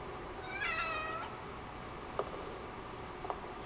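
A cat meows in a dark horror video game, a rising drawn-out mew around the one-second mark followed by two faint clicks against a low ambient hum.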